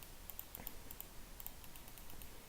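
A computer keyboard clicks in a short, quick burst of faint, crisp keystrokes, heard alone without any talking.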